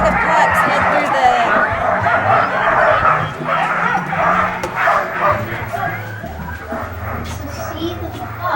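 Dog puppies bark and yip in several quick, overlapping bursts. They are close and fairly loud over steady outdoor background noise, and people talk nearby.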